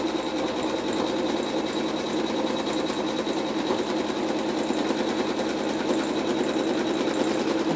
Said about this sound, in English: So now we're going to stitch around the stocking shape again